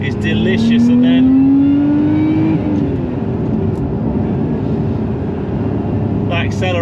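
A car pulls hard under acceleration, its engine note climbing steadily and then easing off, loud and close with a broad rumble throughout and brief bursts of voice near the start and end.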